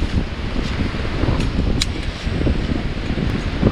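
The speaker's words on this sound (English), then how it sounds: "When it's this windy, it really helps to have a second person." Strong beach wind roars steadily, buffeting the microphone with a dense low rumble, broken by a few faint higher rustles.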